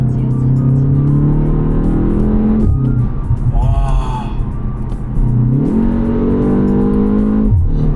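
A BMW 1 Series or 2 Series car engine revs hard with harmonic drones rising and falling between shifts, and a brief exhaust burble crackles off-throttle; a voice exclaims briefly.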